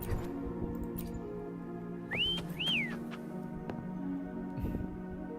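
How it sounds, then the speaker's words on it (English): A game character whistles to call a companion in Wuthering Waves: two short rising-falling whistle notes, close and clear, over a steady ambient game backdrop. "Try whistling."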